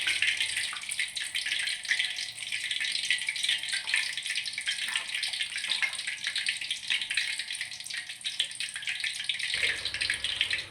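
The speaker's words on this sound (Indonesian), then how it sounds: "Saya goreng 5 dulu ya teman-teman." Stuffed tofu, five pieces at a time, frying in hot oil, giving a steady, dense sizzle and crackle that runs without a break for the whole stretch, with no voices over it.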